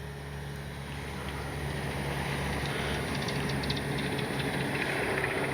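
An RC B-25J warbird model airplane lifts off the runway with a steady, droning engine roar that holds an even level throughout, with no voices heard.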